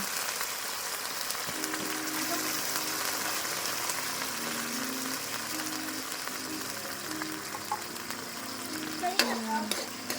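Sardines frying in a pan with oil, a steady broadband sizzle running throughout, with a few faint clinks and scrapes near the end and soft voices in the background.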